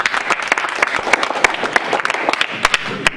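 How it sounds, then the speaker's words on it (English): A room full of people claps for a speaker at a business workshop, loud and close, with sharp individual claps standing out in a dense, steady round of applause. "But can I get a round of applause for Mr."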